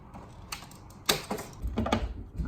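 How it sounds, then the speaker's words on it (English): Tin snips cut through a strip of spring bronze weatherstripping during installation, giving a few sharp metallic snips and crunches close up, with faint handling noise between cuts. "Just going to use my tin snips"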